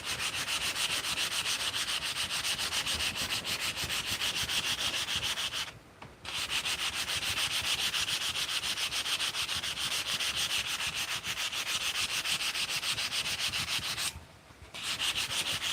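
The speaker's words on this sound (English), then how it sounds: "So now I'm going to flip it around and sand this part." A wooden piece is sanded by hand with steady, close back-and-forth rasping strokes that continue for about fifteen seconds, pausing twice briefly, with no talking.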